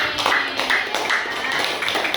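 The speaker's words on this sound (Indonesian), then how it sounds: "Beri tepuk tangan untuk kelompoknya Denis" A classroom of students gives a short, fairly faint round of applause for a student group after their presentation, with scattered claps and a few murmured voices underneath.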